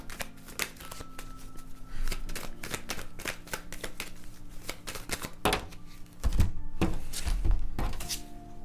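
Tarot cards being shuffled for a reading, a steady run of quick papery riffles and flicks, close and fairly loud, ending with a few heavier slaps and taps as the deck is squared on a table.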